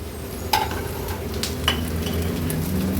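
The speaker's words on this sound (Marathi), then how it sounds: "हिरव्या मिरच्या पण अगदी थोड्याशाच परतून घेते मी." Green chillies sautéing in a pan with onion, ginger, garlic and cashews: a steady low sizzle with a few sharp clinks of a spoon against the pan, close and fairly quiet, with no talk.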